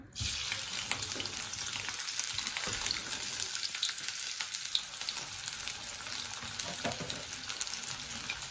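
Onion frying in oil for a Bengali hilsa fish curry with barbati beans, a steady dense sizzle running continuously and close with some faint clatter of stirring.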